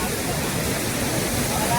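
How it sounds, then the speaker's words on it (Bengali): Durga Falls in the Ayodhya hills pours as a steady, loud broadband roar of falling water with no pauses. "এই হচ্ছে গাইস অযোধ্যা পাহাড়ের দুর্গা ফলস।"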